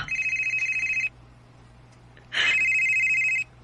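A telephone rings with an incoming call in two bursts of trilling electronic ringing, each about a second long and separated by a pause, loud and close, with no voices.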